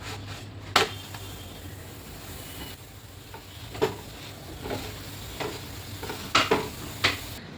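Ghee-brushed aloo paratha cooking on a pan over low flame gives off a faint low sizzle, with scattered sharp scrapes and taps of a spatula against the pan, close and without speech.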